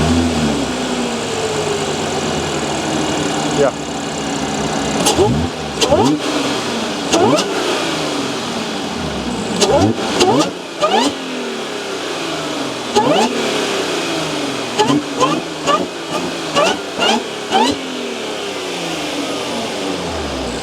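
A supercharged Audi S5 B8.5 with a small pulley upgrade, Stage 2 tune and new injectors, revved repeatedly from idle in loud, close rising and falling sweeps, with a brief spoken word.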